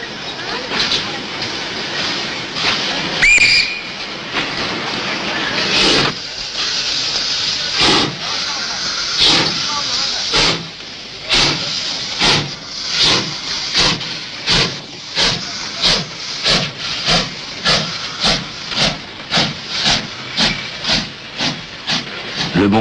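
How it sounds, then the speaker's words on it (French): Turkish steam locomotive hauling the Taurus Express, broad steady hiss of steam with an early sharp whistle-like burst, then a fast regular train of loud chuffing exhaust beats quickening as the engine works, heard close and alone. "le Taurus Express abandonne sa locomotive diesel américaine pour une machine à vapeur turque"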